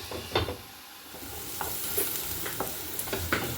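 Potatoes fry in a covered pan, a low sizzle under a series of scraping stirs and clatters spaced irregularly, fairly close, with no one speaking.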